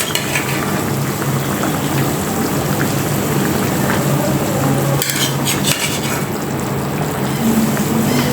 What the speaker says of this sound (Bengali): এবার আমি তরকারিতে মাছগুলো দিয়ে দিচ্ছি।